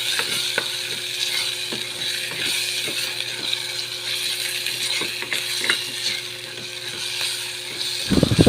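Macaroni carbonara being stirred in a pan, with a steady sizzle and repeated scraping clicks of the spoon against the metal at an uneven rhythm, close and clear, without talk.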